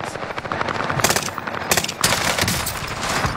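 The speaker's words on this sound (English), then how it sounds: "I'm getting shot at right now" Gunfire in a Call of Duty match, dense bursts of shots crackling over a steady din of battle noise, fairly loud and continuous, with heavier volleys near the one- and two-second marks.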